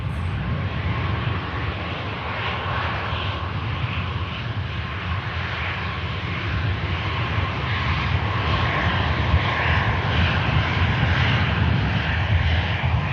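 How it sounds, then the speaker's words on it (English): An Aer Lingus airliner taxis at Manchester Airport, heard as a steady, broad jet engine rumble and whine that holds for the whole stretch and swells slightly toward the end, moderately distant. "Aer Lingus continuing the taxi down Juliet now"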